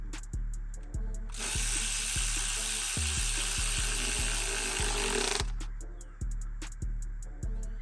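A power tool snugs down bolts: even, rhythmic mechanical clicks, then several seconds of loud continuous whirring, after which the clicking resumes.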